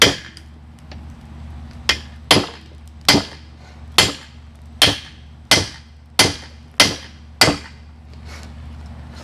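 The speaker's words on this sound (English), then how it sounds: "We're going to take the hot chisel and I'm going to cut the tip out." A hammer striking a hot chisel to cut the tip from a steel piece on an anvil: about nine sharp, ringing metallic blows at a steady, roughly half-second pace, loud and close, over faint background hum.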